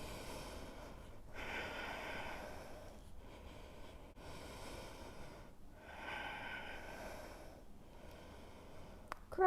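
Slow, controlled yoga breathing, long rhythmic inhales and exhales repeating about every two seconds, close and soft with no talking.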